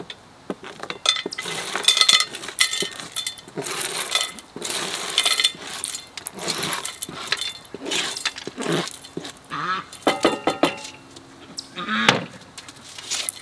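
Seashells crackle and clink as they are broken up and cooked down in a cast iron pan, with irregular sharp snaps and scraping bursts close by, continuing throughout.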